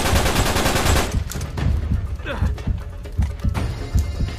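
Rapid gunfire and a heavy shotgun blast in the video game Uncharted 3, loud and dense at first, then scattered booming shots and impacts with a faint voice mixed in.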